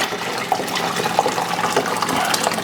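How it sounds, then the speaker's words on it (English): Pastrami brine splashing and pouring into a pot of water on the stove, a steady close liquid rush with small splashes for a few seconds, no talking. "I'm gonna take my pastrami brine and toss it into my water."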